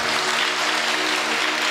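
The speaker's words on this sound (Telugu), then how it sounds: "గట్టిగా చప్పట్లు కొట్టండి" A congregation at a Telugu Christian service claps loudly and steadily in a dense, even wash of applause with no pause throughout.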